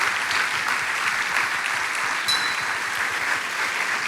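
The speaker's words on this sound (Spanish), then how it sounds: "a quien recibimos con un aplauso de cariño" Warm applause from a church audience welcoming a speaker to the pulpit, a sustained, fairly loud roar of many clapping hands with a faint whistle-like tone briefly rising midway.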